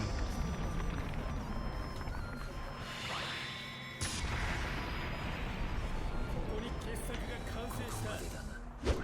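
Fight sounds from the video game Naruto Shippuden: Ultimate Ninja Storm 4, where swishing attack effects rise into a sudden loud blast from Naruto's dragon attack midway, followed by continued rumbling battle noise under an excited commentator's voice.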